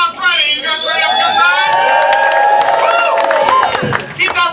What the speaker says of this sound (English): Keep that round of applause going if you are happy.